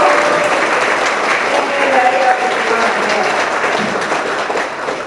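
Audience applause at a political gathering where a party chair addresses the crowd, a dense, steady wash of many hands clapping for the whole stretch with a faint voice carrying over it.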